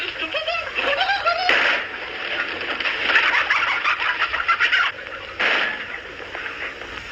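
Someone mimics a chicken in a 1969 comedy routine, with bursts of clucking and squawking calls, close and lively, stopping briefly before another round.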